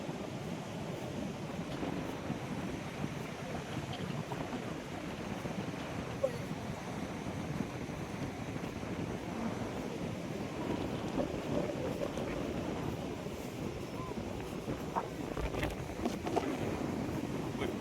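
Waves and wind at Pantai Batu Hitam beach in Kuantan make a steady broadband roar with gusty wind buffeting the microphone, and faint voices are mixed in underneath.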